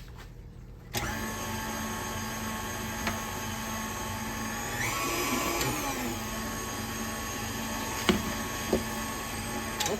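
An electric hand mixer beats sweet potato pie filling in a bowl, a steady whirring drone running continuously and close, with a brief pitch shift midway as the beaters dig in.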